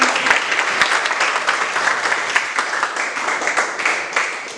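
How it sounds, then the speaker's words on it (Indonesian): A classroom audience applauds after a group presentation, with dense, steady clapping from many hands filling the clip at a fairly loud, even level without any voices. "Mari kita beri aplaus buat mereka."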